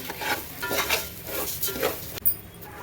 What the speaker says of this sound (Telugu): చిట్టుముత్యాల రైస్ వేసుకొని మాడకుండా అలా కలుపుతూ ఉండాలి